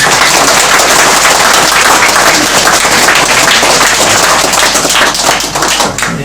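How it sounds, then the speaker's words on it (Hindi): Loud, sustained applause from a congregation welcoming visiting guests at a village church gathering, many hands clapping in a thick, continuous patter that tapers slightly at the end. "एक बार उनके लिए जोरदार से तालियां बजाएं"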